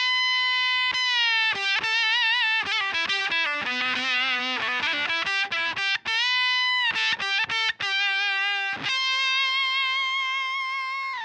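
Electric guitar played through a Warm Audio Foxy Tone Box fuzz pedal, loud saturated notes and chords with thick distortion, sustained tones and choppy bursts, with no voices.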